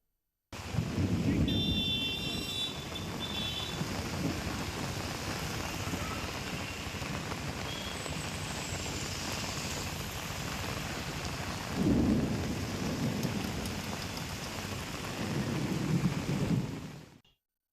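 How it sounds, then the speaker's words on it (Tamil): Heavy rain pours steadily over Chennai with thunder, rumbling peals rising loud near the start and again toward the end over a continuous dense hiss of rainfall. "இடி மின்னலுடன் மழை பெய்தது"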